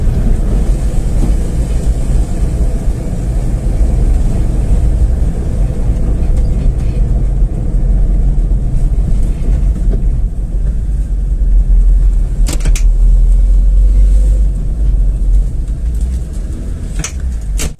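A car drives steadily with a loud, continuous low engine and road rumble, and a couple of brief higher clicks near the end.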